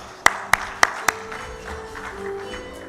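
Summit audience bursting into applause after a panel introduction: a few sharp, loud claps ring out first, then settle into a softer, sustained patter of clapping across the room for the remaining seconds, with no talking.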